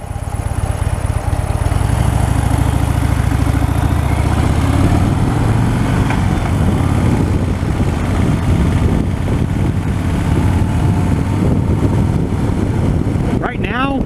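A 2016 Harley-Davidson Fat Bob on a test ride at about 30 mph. Its engine rumbles steadily and loudly under heavy, constant wind buffeting for the whole stretch.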